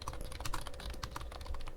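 Rapid keystrokes on a computer keyboard while text is entered into a Python Tkinter entry field, a steady run of quiet clicks with no talking.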